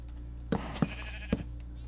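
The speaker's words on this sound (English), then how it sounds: "A little wee baby sheep." A baby sheep in the Minecraft video game bleats in three short, wavering calls close by over a steady low background hum, with no talk.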